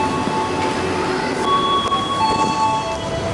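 A passenger train from Jakarta to Bandung, Indonesia, rumbles steadily nearby, with a constant mechanical roar and faint metallic squeals from the wheels.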